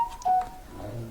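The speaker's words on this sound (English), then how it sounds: "Excuse the noise, that's all the messages coming in." Phone message notification tones in a workshop, a few short electronic beeps sounding in quick succession, fairly near and alone with no talk.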